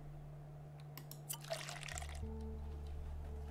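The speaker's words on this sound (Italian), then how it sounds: "Qui abbiamo il pozzo invece che si sta pian piano riempiendo d'acqua." A well in Endzone: A World Apart slowly fills with water. A faint watery splash and trickle swells briefly over a steady low game hum, which shifts pitch partway through.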